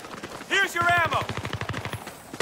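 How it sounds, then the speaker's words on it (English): Rapid machine gun fire in the Battlefield 3 video game: a quick, steady burst of shots lasting about two seconds, with a voice shouting over the start. "Machine gun!"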